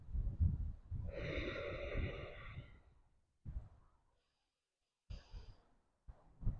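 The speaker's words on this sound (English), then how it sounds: "Inhale and exhale deeply, feeling the movement in your hands. Take 3 deep breaths like this." Slow, deep breaths in and out during a calm yoga break: a long close exhale with a sighing tone, then shorter breaths separated by silent pauses.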